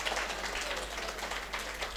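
Church congregation clapping together at a children's Bible school closing program, a steady dense wash of applause throughout.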